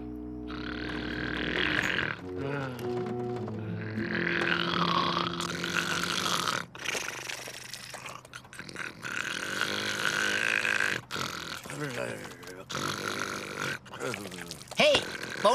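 In a Looney Tunes cartoon, Daffy Duck snores with loud, exaggerated rumbling snores and snorts that repeat through the scene, with cartoon voices and sound effects in between.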